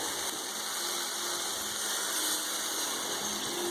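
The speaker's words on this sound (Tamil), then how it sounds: "தண்ணி கொஞ்சம் ஆட் பண்ணியிருக்கோம்." Water gushes steadily into a pan for a few seconds, a continuous close pouring hiss with no voices.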